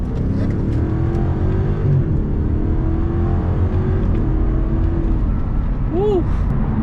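BMW 650i with a misfire, engine revving at half throttle, a loud sustained engine drone with rising and falling pitch throughout, rough and continuous, close to the car.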